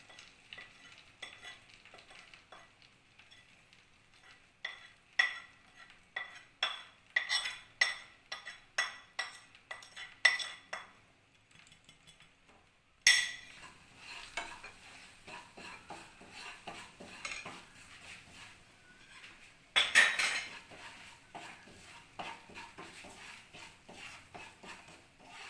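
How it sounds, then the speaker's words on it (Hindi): Spices for paneer makhani sizzle and fry in a pan while a utensil stirs and scrapes in quick repeated strokes, with clinks against the metal and a brief louder burst partway through; no one speaks. "मसाले बस हमें 2 सेकंड भूलना, ज़्यादा नहीं, नहीं तो मसाले जल जाएंगे।"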